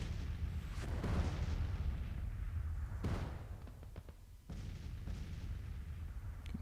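Artillery in the Civil War strategy game Grand Tactician at the Battle of Antietam, heavy booms rolling out at intervals over a steady low battlefield rumble, fairly distant and without speech.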